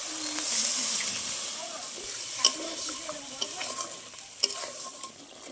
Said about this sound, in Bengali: এবার মিক্সি দিয়ে জল দিয়ে দেবো মশলার মধ্যে।